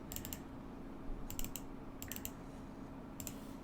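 Computer keyboard keys clatter in short bursts of several quick strokes, separated by pauses, close and fairly quiet over a steady low room hum, while someone codes a first-person shooter in Unreal Engine with C++.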